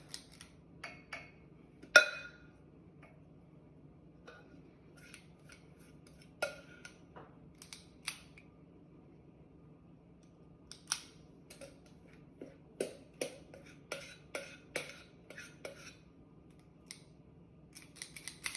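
Sparse, faint scrapes and taps of a utensil against a bowl as the last of the pecan tassie batter is gathered out, in short irregular bursts over a quiet background.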